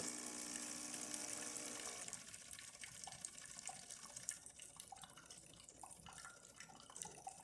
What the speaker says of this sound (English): let's test the hot water system